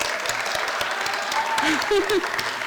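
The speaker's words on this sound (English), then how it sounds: "can we give them all another round of applause?" An audience at a mid-year creative writing showcase breaks into applause, a dense, steady clapping that fills the whole stretch, with a few voices calling out over it.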